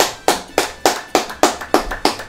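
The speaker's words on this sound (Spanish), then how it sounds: "¡Un aplauso!" A single pair of hands claps about eight times at a steady, deliberate pace. Each clap is sharp and close, with a short decay, and nothing else is heard.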